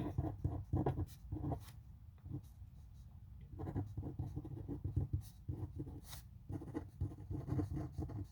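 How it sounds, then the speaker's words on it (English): Hand writing on paper during a fourth-grade math lesson comes through as close, quick scratchy pen strokes in short bursts with brief pauses, and nobody speaking. "And so we'll just write that down."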